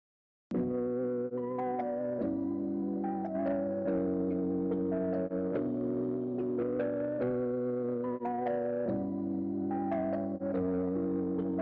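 A sustained, melodic instrument passage is colored by warm distortion from a Kramer tape machine plugin, playing continuously and fairly quietly, with no voices.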